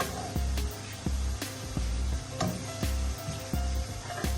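Garlic frying in a pan gives a steady sizzle, broken by repeated dull knocks of stirring at an uneven rhythm.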